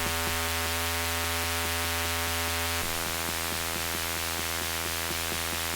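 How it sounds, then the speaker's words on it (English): Steady synthesizer white noise hisses continuously at an even level beneath a repeating electronic techno loop with rhythmic tonal pulses from a dawless hardware setup, with no voices. "I need white noise."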